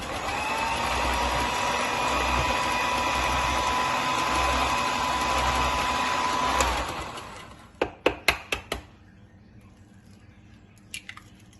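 An electric mixer beats cake batter while eggs are added, giving a loud steady whir for about seven seconds. It then shuts off, followed by a few sharp clicks and taps and near silence.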